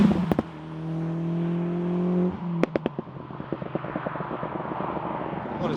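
A Mk1 Audi S3 engine pulls hard through the gears, a steady droning tone that climbs then cuts at a shift, followed by clicks and a rougher, busier engine note, close and loud with no talking.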